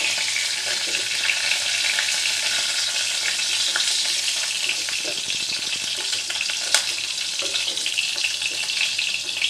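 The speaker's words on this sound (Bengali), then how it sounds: "ঢাকা দিয়ে আমি ভেজে নেব।" Pointed gourd (potol) frying in oil in a pan, a continuous close hiss and crackle of sizzling with occasional faint clicks and stirring sounds, no talking.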